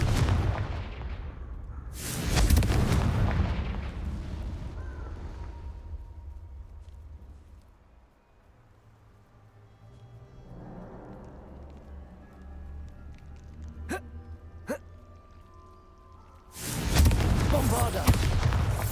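Confringo fire spells explode in the Hogwarts Legacy video game: two loud, booming blasts, one early and one at the end, each with a rumbling decay, separated by quieter game ambience.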